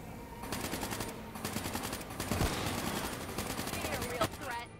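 Rapid automatic gunfire in the video game Call of Duty: Black Ops 3, a dense, evenly paced stream of loud shots that runs almost continuously, with a brief break near the start and a faint voice underneath.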